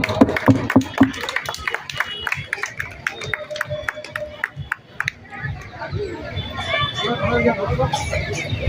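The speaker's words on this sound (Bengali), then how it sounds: "সকলে একটু হাত তালি দিন, একটু হাত তালি দিন।" An audience at a spring welcoming festival in Raina claps hands in a brisk, fairly even rhythm of sharp, close claps that thin out midway into scattered claps and crowd chatter, with a voice talking over it.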